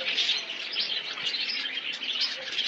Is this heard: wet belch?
no